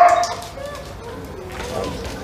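A search and rescue dog gives a few short barks and yips during a training exercise, near and moderately loud at the start, with faint background noise and possible voices afterward.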